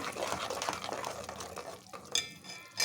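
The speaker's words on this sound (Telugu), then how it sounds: "ఇందులోనే కొంచెం అల్లం పేస్ట్ అయితే వేసుకొని మంచిగా కలుపుకోవాలి" Moong dal with ginger paste stirred in a pot, giving soft wet squelching and scraping with a few sharp clicks of the spoon against the metal rim.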